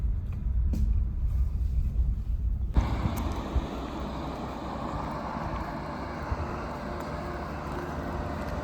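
A car driving on a forest road near Jim Corbett in Haldwani slows as it comes to a halt, its low engine rumble heard from inside and shifting partway through, with no talking.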